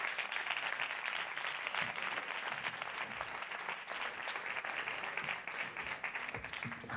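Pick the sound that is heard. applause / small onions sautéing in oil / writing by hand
applause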